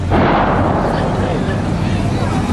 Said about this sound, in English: It was very frightening to see the tank explode.